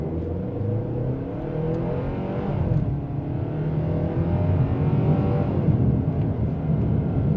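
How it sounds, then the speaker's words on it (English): A Hyundai Santa Fe XRT accelerates in sport mode, its engine droning and rising steadily in pitch from inside the cabin, continuous and fairly loud with no talk. "we're going to show you a little 0 to 60 type, not 0 to 60, but a little bit of acceleration run"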